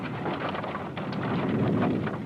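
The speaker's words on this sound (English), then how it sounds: "The rain keeps up for days," Steady rain falls over a wagon train on a muddy trail, a dense continuous hiss and patter with a gusty, rumbling undertone, alone with no voices.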